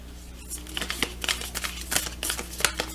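Oracle cards being shuffled by hand, a quick run of close, papery riffling flutters and soft slaps in uneven bursts, heard on their own without speech.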